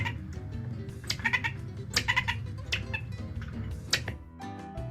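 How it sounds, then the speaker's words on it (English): Marmosets in Brazil's Pantanal give a dense run of high, shrill calls and chirps over a steady rustling background, fairly close and continuous throughout. "the distinct call of the marmosets"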